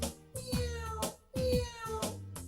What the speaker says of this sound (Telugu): బల్ల కింద నల్ల పిల్లి మ్యావ్ మ్యావ్ మ్యావ్.